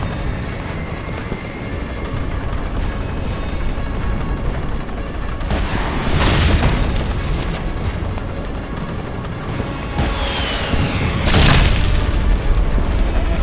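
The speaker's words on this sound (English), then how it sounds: "See if 5 rockets can do it." Rocket explosions in the video game Alpha Protocol: a few heavy, rumbling booms a few seconds apart, each swelling and fading over steady background game noise, with no talk.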